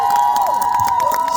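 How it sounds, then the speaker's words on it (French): A wedding audience cheers and shouts loudly over a sustained high whistle-like tone, brief and energetic. "So les applaudissements du public."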